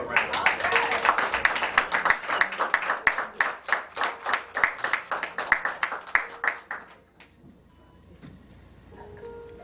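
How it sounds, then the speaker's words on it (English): Audience applause in a gathering on repatriation to Ghana: a run of rhythmic clapping for several seconds that fades out, leaving a quiet room with faint murmur. "let's give her a round of applause"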